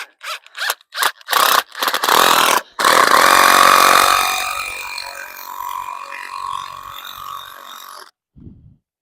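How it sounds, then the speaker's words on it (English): An impact driver screws a greenhouse ground anchor into soil in several short, loud bursts, then one long rattling run of about five seconds that fades out, with a faint sound near the end. "to save time and show you how this is done, use an impact driver, and it'll just put it right in there"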